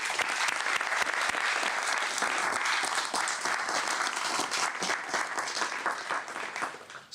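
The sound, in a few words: audience applause at press conference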